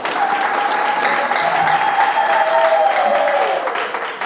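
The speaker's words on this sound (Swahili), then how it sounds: "Hongereni sana na tuipigie makofi makubwa." Dense, steady applause from an audience fills the room at the opening of a sailors' workshop in Kigoma, Tanzania, holding loud and even throughout before easing slightly at the very end.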